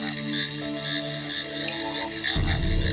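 A frog croaks in a slow, layered series of deep calls, fairly close and alone, with a lower, louder croak near the end.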